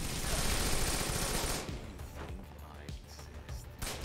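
A rifle firing rapidly in the Wanted: Dead video game: a dense, loud burst of automatic fire for about a second and a half, then quieter scattered clanks and thuds.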